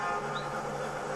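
A train in film stock footage rumbles steadily for a moment, a broad continuous rail noise close and fairly loud with no voices over it.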